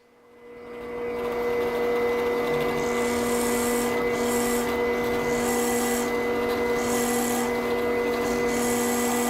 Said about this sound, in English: Go to the drill press and bore those holes down so they can accept the tenons.